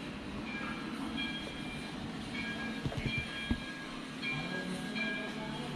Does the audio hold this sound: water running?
no